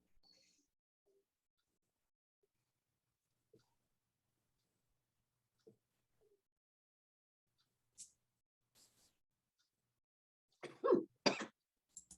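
After a long near-silent stretch with a few faint clicks, a sudden close sneeze bursts out in two quick sharp parts.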